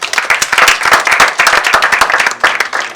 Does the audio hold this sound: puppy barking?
no